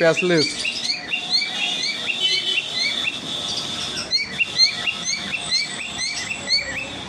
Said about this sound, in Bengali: ভায়োলেট মাস্ক বন্ধুরা এই পাখিগুলো আমার বাড়িতে আছে